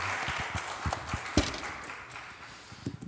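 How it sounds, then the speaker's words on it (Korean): A church congregation at a Sunday worship service claps together: steady rhythmic hand claps in a soft, roomy wash, continuing evenly for a few seconds without talk. "우리 하나님께 영광의 박수를 올려봅시다"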